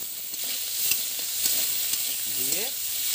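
Chopped tomatoes added and stirred into frying cauliflower, potato and pea curry, a continuous close sizzle with repeated scraping stir strokes and clicks, plus a brief faint voice-like sound near the end.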